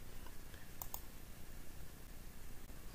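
A computer mouse gives a couple of quick, faint clicks close by against quiet room noise, then falls still.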